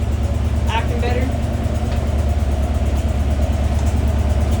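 Nissan S13 car engine idling steadily with a low, even rumble throughout, the idle holding without dying after distributor adjustment, with a couple of brief faint sounds in the background.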